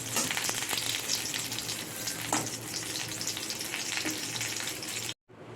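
Pohala fish fries in oil with a dense, continuous crackling sizzle, close and loud throughout, ending in a brief silence, with no voices.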